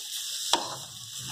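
Suji halwa with milk and sugar gets stirred in a pan: a soft, steady sizzle broken once by a sharp scrape of the spoon, fairly quiet and without voices.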